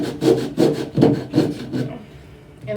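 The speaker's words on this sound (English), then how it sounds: "get a sanding tool and then like a block of wood that goes inside of" A sanding block rubs back and forth over a wood sculpture in five steady, close, rasping strokes about half a second apart, then stops.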